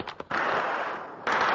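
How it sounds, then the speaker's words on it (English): Two quick sharp cracks are followed by a harsh, sustained blast of noise, then another burst, like gunfire and explosions heard up close during unrest in the city of Homs, Syria. "Explosions and gunfire rocked the western city of Homs"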